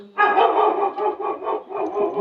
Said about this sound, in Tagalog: Sensya na guys yung aso namin. Malaki yung boses.